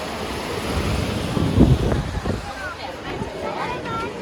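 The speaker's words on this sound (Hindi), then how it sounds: "ये भागीरथी नदी है अपनी।" Bhagirathi river flowing at a riverside shrine on the route to Kedarnath, a continuous rushing roar of water with wind buffeting the microphone and a voice talking briefly over it in the middle.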